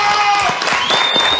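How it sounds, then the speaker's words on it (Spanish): Brief applause from a studio audience on a televised impersonation contest show, a steady wash of clapping with a high electronic tone running over it. "Un aplauso para ti, Diana."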